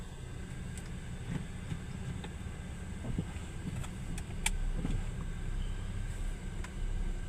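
A Skoda Slavia drives at night, heard from inside the cabin as a low, steady road and engine rumble with faint ticks and rattles, fairly quiet overall.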